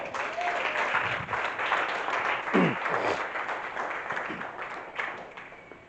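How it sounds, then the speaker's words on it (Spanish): A church congregation applauds steadily for several seconds, with some voices mixed into the dense clapping, which tapers slightly toward the end. "Dale un aplauso."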